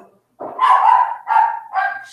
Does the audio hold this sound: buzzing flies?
no